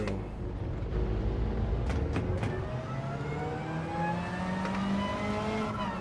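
Race car engine in a racing video game, revving and climbing through gears with rising whine that drops at each upshift, loud and continuous, heard without any talking.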